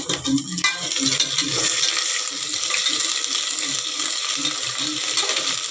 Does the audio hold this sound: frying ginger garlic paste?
yes